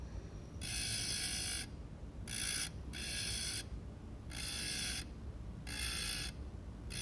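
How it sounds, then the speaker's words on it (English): A ball burr in a rotary grinder carves small overlapping depressions into a steel plate, giving bursts of high, whining, grinding noise of a second or so, five in all, over a steady low background hum. "So here I'm just sort of overlapping, carving out small depressions in this steel"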